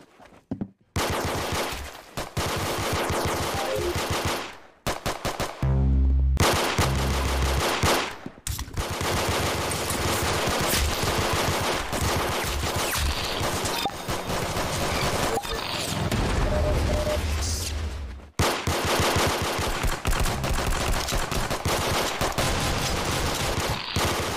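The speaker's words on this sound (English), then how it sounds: "That's some beautiful shooting right there." Gunfire in the Roblox video game: loud, rapid bursts of automatic fire that run almost continuously, broken by a few short gaps and heavy thuds.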